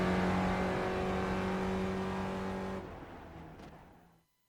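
Race cars in a racing video game accelerating hard down the pit straight at Circuit Gilles Villeneuve in Montreal, a loud steady engine drone that fades away after a few seconds into silence.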